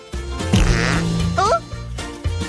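A cartoon fart rings out, a loud buzzy blast that wobbles in pitch and trails off over a second, surrounded by animated character voices in a comedic hospital food-sneaking scene.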